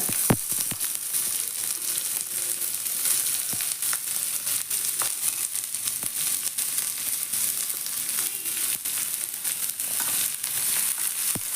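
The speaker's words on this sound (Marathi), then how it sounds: "थोडंसं तेल घालून कांदा भाजून घ्यायचा आहे" Onion frying in a little oil in a pan while a drumstick vegetable curry is cooked: a steady, close sizzle with scattered stirring clicks, and no talking.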